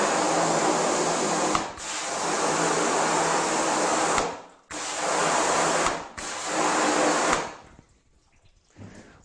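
High-pressure water hose spraying through a screen printing screen to wash it out, a loud steady broadband hiss broken by brief pauses before cutting off near the end.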